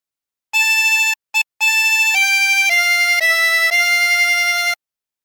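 Chromatic harmonica playing a sustained phrase of Hark The Herald Angels Sing, clear held notes stepping between pitches with a brief break near the start, close and loud with no voices.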